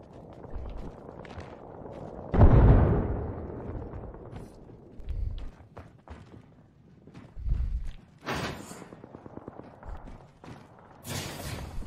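A frag grenade goes off in the shooter game Apex Legends, a heavy low boom swelling early and fading, followed by scattered gunfire cracks, footsteps and later bursts of game noise; no talk.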